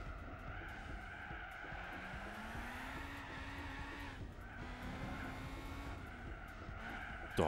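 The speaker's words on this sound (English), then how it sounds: "quit your wheel spinning. It's spinning one wheel." A race car engine in Gran Turismo 4 revs hard while one wheel spins and squeals, a steady whining drone with a rising pitch that wavers throughout.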